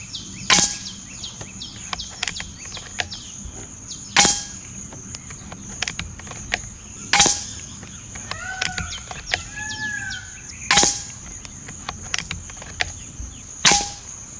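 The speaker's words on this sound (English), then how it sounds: "So I'm going to take 5 shots at 25 yards on the left side target." Five sharp shots from a Px100 PCP air rifle firing 11-grain hollow slugs at a 25-yard target, evenly spaced about three seconds apart, each a crisp loud crack with faint birdsong in the background.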